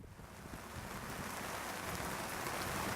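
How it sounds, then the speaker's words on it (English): A steady, dense hiss of heavy rain fills the air, swelling slightly louder over a few seconds with no voices. "We went out when it was just pouring rain."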